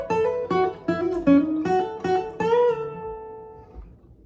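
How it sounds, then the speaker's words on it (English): Guitar solo from a song, played as a run of about seven plucked notes in a steady rhythm, the last one left to ring out, with no voices. "And then we have a little guitar solo"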